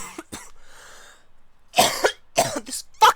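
Several harsh coughs in bursts, close to the listener, with a short rasping throat sound in between.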